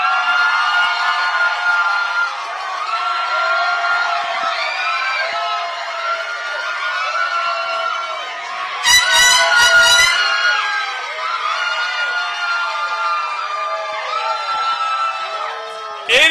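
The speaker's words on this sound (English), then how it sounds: "This is a wonderful noise being made for these incredible public school educators" A large outdoor crowd at a public school teacher awards event in Guam cheers and shouts continuously, with many overlapping whooping voices, loud and close, and a burst of blaring air horns midway.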